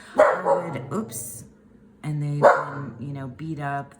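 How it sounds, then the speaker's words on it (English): A dog barks indoors in short, sharp bursts that are mixed in with someone talking nearby, with the barking and speech overlapping at similar loudness. "Pardon the dog barking, sorry."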